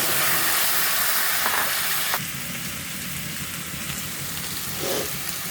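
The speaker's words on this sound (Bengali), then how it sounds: "মশলা ভাজা ভাজা হয়ে গেছে, এখন মূলোগুলো দিয়ে দিচ্ছি" Radish pieces are added to fried spices in a pan, setting off a loud steady hiss that drops suddenly partway through into a softer, continuous sizzle with a few faint scrapes, and no voices.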